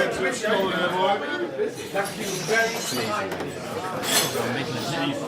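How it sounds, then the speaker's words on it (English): In a busy pub, glassware chinks and clinks amid a crowd's loud chatter, a few sharp bright knocks standing out from the steady hubbub of talk. "someone tried to throw a glass on the floor"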